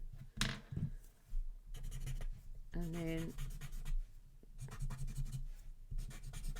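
A pastel pencil scratches across paper in short, close strokes as centres of bars are filled in on a Zentangle pattern, with a person talking quietly between and over the strokes.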